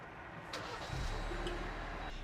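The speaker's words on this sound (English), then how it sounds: "So I'm going to go ahead and give the car a start" A Jeep Wrangler engine cranks briefly and catches, then settles into a steady low idle rumble heard from close by, with no one talking.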